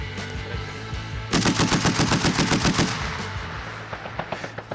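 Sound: Browning M2 12.7 mm heavy machine gun firing

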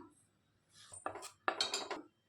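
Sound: kadhai wok being set down on the stove

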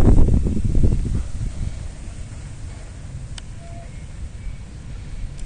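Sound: strong gusts of wind on microphone

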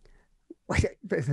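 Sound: sneeze

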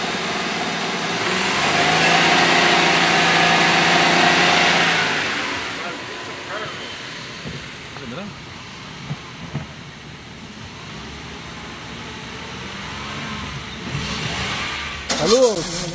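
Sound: Suzuki Celerio car engine revving under acceleration

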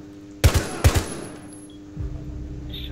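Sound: gunshots in Rainbow Six Siege video game

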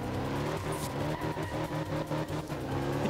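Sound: rally car backfires and gravel spray in Art of Rally video game

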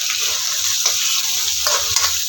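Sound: onions frying in oil in a pan

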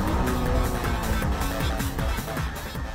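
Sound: race cars, Honda NSX overtaking BMW M3

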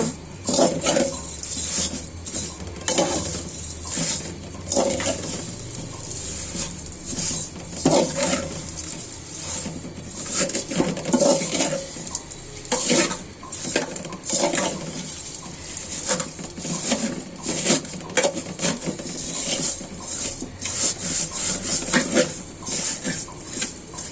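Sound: vermicelli frying and being stirred in oil

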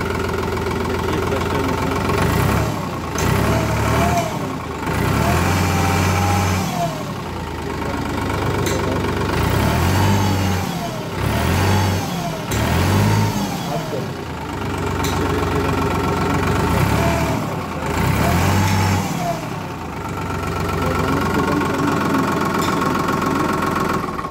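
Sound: tractor engine starting and idling

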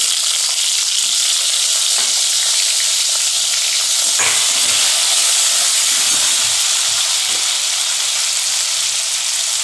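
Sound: tomatoes frying in a pan for pumpkin chutney

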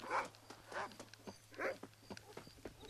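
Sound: dog in Red Dead Redemption video game

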